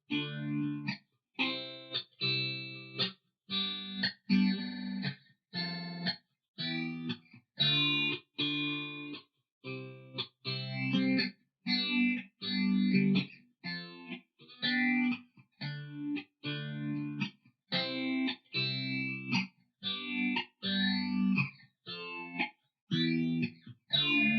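An electric guitar played in short chords and notes through a Boss PH-3 phaser pedal controlled by an expression pedal, the tone swirling and shifting throughout with brief gaps between phrases.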